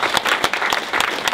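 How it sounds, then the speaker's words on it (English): An audience at a mixed martial arts press conference gives a short, steady round of applause for the fighters, dense clapping heard fairly close with no talking over it. "Round of applause for Giorgio and for Spencer"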